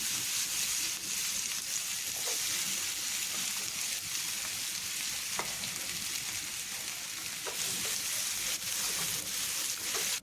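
Chopped onion fries in hot oil for a potato curry, giving a steady, crackling sizzle across the whole stretch, broken now and then by sharp spatters and the scrape of stirring.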